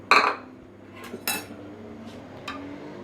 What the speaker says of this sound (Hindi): हम दही डालेंगे, दही को हम अच्छी तरह से फेंट लेंगे